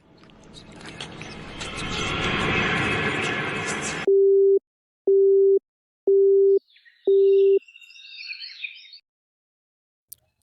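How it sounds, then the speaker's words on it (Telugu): Repeated telephone tone of a call to a switched-off mobile phone that fails to connect, four evenly spaced beeps after a burst of noise, followed by faint chatter and an automated message. "ధనుష్ ఫోన్ ఏంట్రా స్విచ్ ఆఫ్ వస్తుంది"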